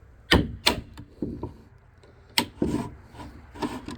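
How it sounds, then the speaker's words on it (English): A big flat screwdriver scrapes and knocks against metal while prying off a clutch part on a Yamaha YZ250 dirt bike, a series of close, uneven scrapes and clunks. "Just get you a big flat screwdriver and this thing should just pop right off."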